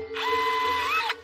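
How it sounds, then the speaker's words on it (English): Power drill boring holes into a length of electrical tubing for inserting water jets, a steady close high whine lasting about a second that rises slightly in pitch before cutting off. "drilling holes in a length of electrical tubing and inserting water jets"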